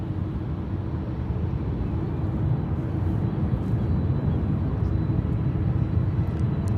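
Airliner taking off from runway 28 left at San Francisco International Airport, a broad steady jet roar that swells slightly and holds, heard from a distance without pause.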